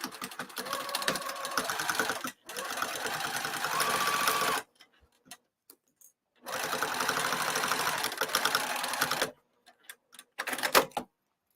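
A sewing machine stitches a cross-body bag exterior with foam stabiliser under the foot, running in two sustained humming, rapid-ticking runs separated by short pauses, close and steady.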